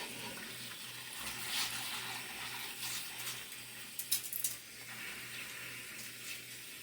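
Tap water runs steadily into a sink over split peas being rinsed in a colander, a continuous broadband hiss with light splashing and a low hum beneath, no talking.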